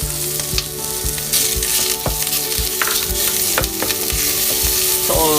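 Garlic and pork for a risotto sizzle and fry steadily in a hot pan, with scattered clicks and scrapes of stirring against the constant crackle.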